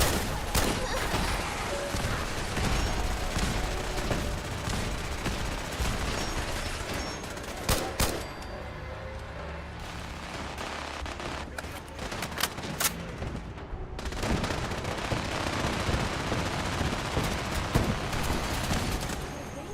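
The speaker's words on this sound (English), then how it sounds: "I hear the gunshots." Rapid bursts of gunfire in the modded video game Fallout 4, loud overlapping shots and booms throughout with brief quieter gaps, no talking.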